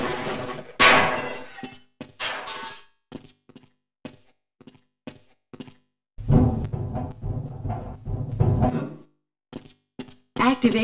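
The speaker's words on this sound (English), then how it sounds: "Finally, if nothing else works, you can try kicking the objects on the path. Make sure you can move the corner and simply smash your box." A box is kicked and smashed in Half-Life's Hazard Course: a loud breaking crash early on, scattered light knocks, then a longer burst of shattering and clattering debris lasting a few seconds before another crash at the end.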